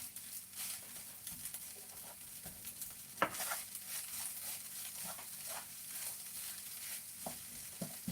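Fried rice is stir-fried and mixed in a pan with salt, a soft continuous sizzle broken by frequent spatula scrapes and taps, with one sharper knock midway.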